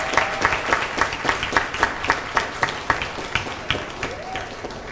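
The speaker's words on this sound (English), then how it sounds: "And how about one more round of applause for all of our contestants?" Audience at the Gainesville talent show giving contestants a round of applause, a full crowd clapping with a strong steady rhythmic beat of unison claps, loud and sustained, with faint voices beneath.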